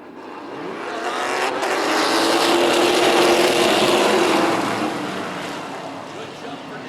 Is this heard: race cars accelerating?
yes